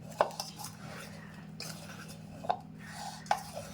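A spoon stirs masala in a cooking pan, giving a few sharp metallic scrapes and clinks over a quiet background.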